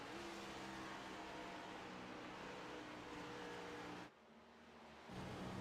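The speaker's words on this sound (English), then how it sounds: "You can hear him shift the car." Onboard a race car in a series race at Nashville, the engine drones steadily at high revs, then drops abruptly for about a second during a gear shift before the tone returns, loud and close.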